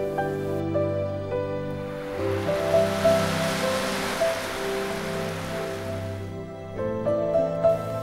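Ocean waves break steadily on the shore near Auckland, a broad continuous wash of surf that swells through the middle and fades toward the end, heard beneath sustained melodic music.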